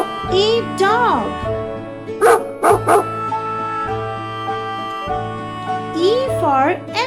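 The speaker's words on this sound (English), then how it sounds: "D for dog." A dog gives several short barks and yips with some whimpering rises, close and loud, alongside a voice and music.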